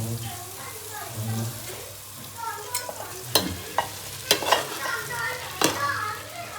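Cooked rice being stir-fried in a pan, with a low steady sizzle broken by several sharp scraping and clinking strokes of a spoon against the pan, close and moderately loud.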